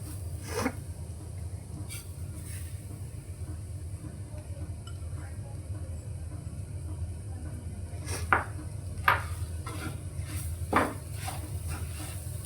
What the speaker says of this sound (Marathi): साखर घातल्यावर आपल्याला सतत परतत राहायचं आहे